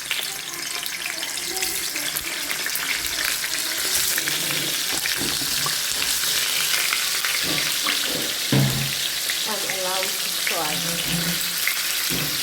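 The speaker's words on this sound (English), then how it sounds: "So the oil is actually hot, so I'm gonna put in the sausages right now." Sausages frying in hot oil give a loud, continuous sizzle with crackling bursts, close by and steady, with a few faint voice-like sounds near the end.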